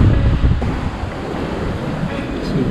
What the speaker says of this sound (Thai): ก็คลื่นก็แรง